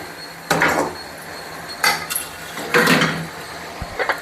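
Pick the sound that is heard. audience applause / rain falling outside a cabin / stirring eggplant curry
stirring eggplant curry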